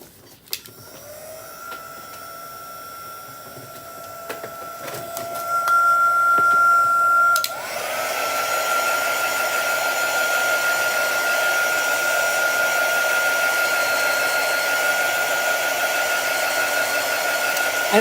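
A hair dryer blows steadily over a chalk-painted farmhouse tray, a loud close whirring hum that steps up to a higher setting partway through and holds constant to the end.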